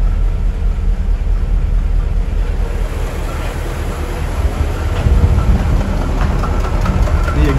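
A 1958 Cadillac Eldorado Brougham engine idling soon after a cold start, a loud, steady low rumble that holds evenly throughout with no voices.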